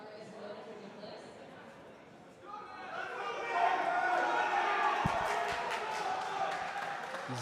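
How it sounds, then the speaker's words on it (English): Crowd cheering and chatter at a powerlifting provincial competition swell from a quiet murmur into a sustained roar, with shouts and a few sharp bangs midway, under commentary. "He's got the crowd on their feet here."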